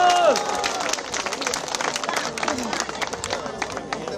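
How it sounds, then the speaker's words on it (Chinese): An audience claps in a burst of applause at a ceremony honouring couples married over 25 years, one pair for 70. Dense, steady clapping fills the whole stretch, loud and close, with a brief tone at the very start. "70年了，给他们掌声鼓励一下好不好？"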